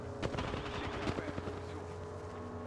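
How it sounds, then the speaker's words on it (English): Rapid automatic gunfire from the video game Apex Legends crackles in quick bursts over a steady droning background, close and fairly loud, with a brief stretch of game voice. "Opening fire."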